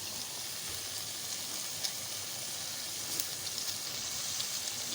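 Finely chopped garlic and ginger frying in a pan, giving a steady, soft hiss of sizzling with faint crackles throughout and no talking.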